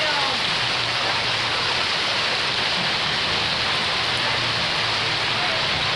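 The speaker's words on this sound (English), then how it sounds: "The hail can go away." Hail and heavy rain from a spring storm on the Rockies Front Range pour down in an unbroken wash of noise, loud and close throughout.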